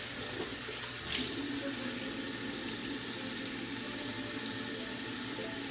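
A bathroom tap runs steadily into a sink while a face is wetted, a constant close hiss of flowing water with a brief splash near the start.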